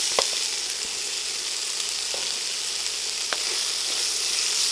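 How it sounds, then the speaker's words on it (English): Chicken sausage hits a hot pan during a vegetable stir fry and sizzles loudly and continuously, with a few soft clicks of stirring or utensils over the steady frying hiss. "Next we're gonna drop our sausage."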